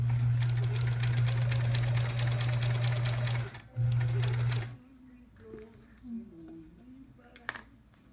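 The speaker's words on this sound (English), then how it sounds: "I suppose I'll sew on it still." A sewing machine stitches a quilt block in a loud, steady run of about four seconds, pauses briefly, runs again, then stops, leaving quiet room sound with faint voice-like murmurs.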